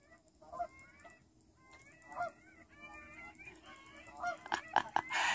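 Canada geese honk repeatedly, several birds calling in overlapping bursts, growing louder and more frequent toward the end.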